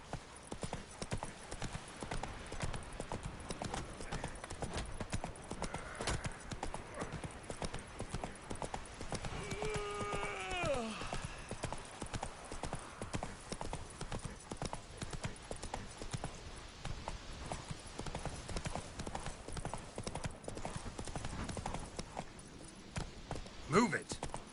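Horse hooves clip-clopping steadily in The Witcher video game, a continuous rhythmic trot with a brief whinny partway through and a voice heard once.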